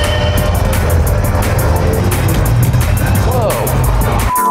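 A Toyota FR-S in Gran Turismo 6 with manual transmission revs hard under a steady loud game engine drone, with tire squeal and rising pitch sweeps, sharp clicks and a brief cut at the end.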